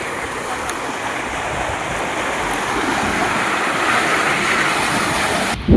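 Steady, loud rushing water pours through the gates of a village irrigation channel, a continuous broad roar that holds at a constant level for several seconds with no voices.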